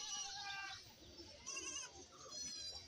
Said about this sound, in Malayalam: ഒരു വണ്ടിയിൽ ഇപ്പോൾ കുറച്ച് ആടുകളെ കൊണ്ടുവന്നിട്ടുണ്ട് കുട്ടിയും തള്ളയാടുകളായിട്ടൊക്കെ വന്നിട്ടുണ്ട്